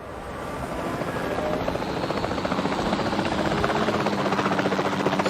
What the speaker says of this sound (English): Time to ride my chopper.